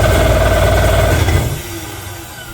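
A jet ski engine runs loud and close with a steady idling drone, then drops sharply and fades to a low rumble after about a second and a half.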